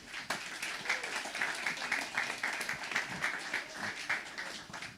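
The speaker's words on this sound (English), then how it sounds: "Can we have a really big round of applause for the legend that is Rob Hopkins?" An audience applauds Rob Hopkins as he is introduced at a talk in Bristol, a moderate, lively patter of many hands clapping, somewhat distant and steady, with no voices over it.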